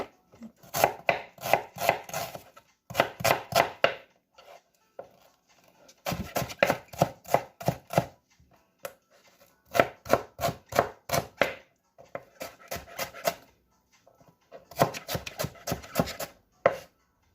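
Rapid bursts of a knife chopping onion and garlic on a cutting board, in quick rhythmic runs separated by short pauses, close and clear.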